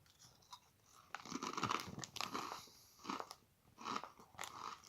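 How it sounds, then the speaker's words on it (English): Two Real McCoys crisps eaten at once, loud close crunching and chewing in irregular bursts, with crisp cracks between softer mastication sounds. "I have two more crisps, which I'm going to eat them both at once."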